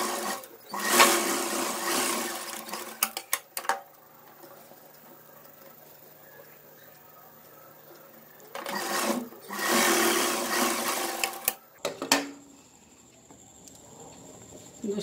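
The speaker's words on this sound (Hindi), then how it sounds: "दोस्तों अब इसमें हम इंटरलॉक कर लेंगे।" An interlock (overlock) sewing machine stitches the fabric of a ladies' pant, running in two loud bursts of steady whirring separated by a quieter stretch of handling noise.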